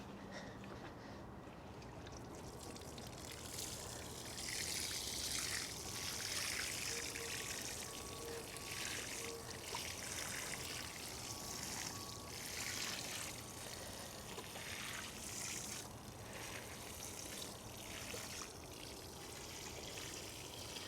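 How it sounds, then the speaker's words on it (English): Water splashes and trickles steadily onto freshly planted brassica beds in a garden, a continuous pouring stream with slight surges, fairly close, with no talking. "So I'm gonna water these beds in and then we'll be done."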